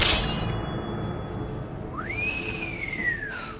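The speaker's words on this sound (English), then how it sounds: "Gob's got the spider slicer pickaxe and the wild whistle emote?" A whistle emote in the video game Fortnite: a single whistle tone sweeps sharply upward, then glides slowly down for more than a second over steady game background noise.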